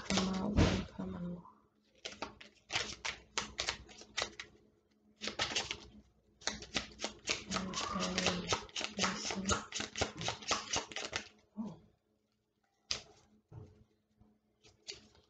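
Tarot cards shuffled by hand during a reading, a long run of rapid crisp riffling bursts with brief pauses, fairly close and steady, with no talking over it.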